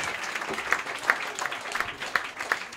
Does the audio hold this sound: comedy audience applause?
yes